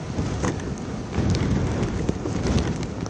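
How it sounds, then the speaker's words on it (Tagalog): Strong wind and heavy rain of Typhoon Marce in Gonzaga, Cagayan, a steady loud roar of gusting wind with rain beating down, filling the whole stretch without pause. "Ganito kalakas ang hangin naranasan sa bayan ng Gonzaga, Cagayan, dala ng Bagyong Marce kaninang hapon."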